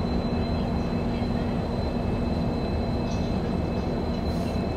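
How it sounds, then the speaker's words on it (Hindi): Rajdhani Express pulling out of Sairang railway station in the hills of Mizoram at sunset, a steady low rumble of rolling rail cars with a faint tonal hum, continuous and even throughout. "सायरंग से हम लोगों की ट्रेन डिपार्ट ले रही है"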